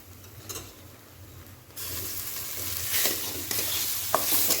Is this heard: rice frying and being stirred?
yes